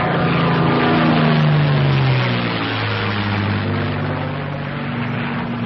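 A P-51 Mustang piston engine drones loud and steady in flight during an accelerated stall demonstration, its propeller hum holding a continuous roar with a tone that slides lower partway through.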